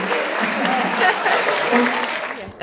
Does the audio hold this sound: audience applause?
yes